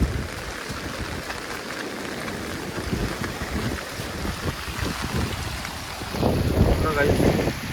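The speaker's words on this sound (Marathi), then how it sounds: "काही हवा पण खूप सुटतं" Strong wind blowing at a riverside during heavy monsoon rain makes a steady, loud roar across the whole stretch, growing heavier and more turbulent toward the end.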